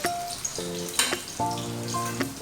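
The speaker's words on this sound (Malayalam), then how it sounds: "ഈ ഓയിലിൽ തന്നെ നമുക്ക് നമ്മുടെ സബോള വാട്ടിയെടുക്കാം" Oil sizzling in a pan while cooking brinjal curry, a steady hiss broken by a few sharp pops and clatters from the pan.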